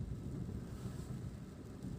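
Steady low rumbling rush of heavy rain and wind heard from inside a Mitsubishi Mirage G4 car, constant and muffled with no voices.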